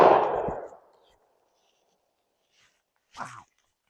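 A shotgun fires a Winchester AA shell that has been reloaded fifteen times: one loud, sharp blast opening the clip and decaying over about a second, followed by quiet and a short burst of voice.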